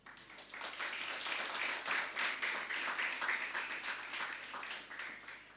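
An audience at a conference forum in London claps for a panel, a sustained round of applause of moderate loudness with no talk over it.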